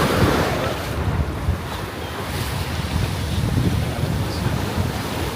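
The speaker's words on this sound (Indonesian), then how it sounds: "Iya, cuma gara-gara ada ombak aja." Ocean waves wash in at the beach on Pulau Cipir, Onrust and Untung Jawa, a continuous broad roar of surf mixed with heavy wind noise, loud and close, with no talking.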